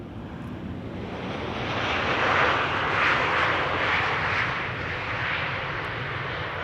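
A narrow-body airliner at Amsterdam Schiphol Airport gives a broad, steady jet roar heard from a distance. It swells slightly midway and holds for several seconds, with no talk.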